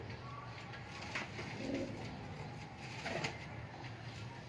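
Pigeons coo softly in a loft kept for sale in Sheikhupura, a few low murmuring calls over quiet background noise, fairly faint and distant.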